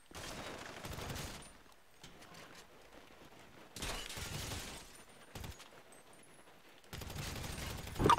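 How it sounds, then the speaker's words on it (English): Gunfire in a police roleplay video game, heard as three bursts of rapid shots at moderate level with quieter gaps between them and a short single report in the middle. "Shots fired, two down."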